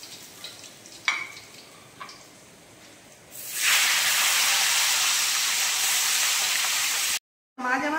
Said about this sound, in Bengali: এবার মাছগুলো আমি তুলে নিলাম, দিয়ে ওই একইভাবে বাকি মাছগুলো আমি ভেজে নেব